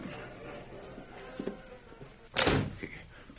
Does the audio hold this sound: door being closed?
yes